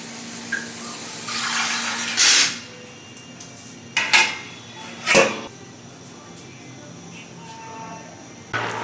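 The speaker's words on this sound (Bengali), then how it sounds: "এবার জল দিয়ে দিলাম, দিয়ে আমি ঢেকে দেবো কিছুক্ষণের জন্য।" Water goes into a cooking pot of pui saag with fish heads on a Bengali kitchen stove, followed by a few sharp clanks of metal as the pot is covered. The sounds are close, over a low kitchen background.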